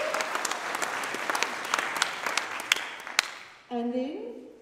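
A church congregation breaks into dense, steady applause that fills the room, fading out as a single voice starts speaking at the end.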